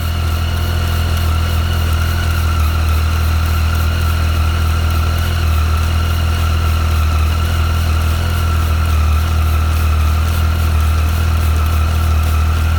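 A Triumph Tiger 800 XRt motorcycle engine runs loud and steady at a constant idle-like pitch, close by and unbroken, while its chain is being cleaned.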